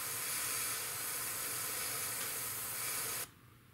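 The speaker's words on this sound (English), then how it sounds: "But I've got the color in the airbrush and I want these things to move along" An airbrush sprays paint onto a Tamiya P-47M model aircraft as a steady, close, loud hiss that stops abruptly near the end, with no talk.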